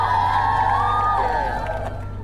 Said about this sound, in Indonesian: Coba mana teriakannya buat Bastian